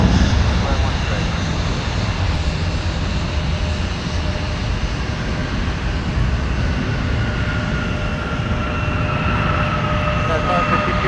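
A jet aircraft roars loudly and continuously at Minneapolis–St. Paul airport, a broad engine rumble with a steady high whine that holds throughout as a plane runs near the runway.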